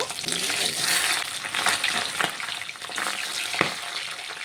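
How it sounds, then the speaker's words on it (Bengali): Pabda fish sizzling and crackling in hot oil in a wok, a steady close frying hiss with sharp spits and pops throughout, no talking. "আমি পাবদা মাছগুলো ভেজে নেব।"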